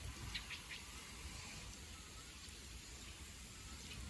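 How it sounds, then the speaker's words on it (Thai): Light drizzling rain falls outdoors, a soft, faint, continuous patter with a few scattered droplet taps and no voices. "ฝนตก"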